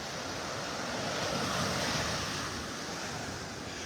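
Rough surf breaking on the beach at North Naples, Florida, on a morning with the tide coming in: a steady, loud, continuous wash of waves with wind noise and no voices.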